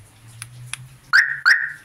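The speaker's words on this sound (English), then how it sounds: "This is the alarm." An aftermarket car alarm fitted to an older non-computerized car with a wireless kill switch gives two loud, close chirps in quick succession after a quiet stretch.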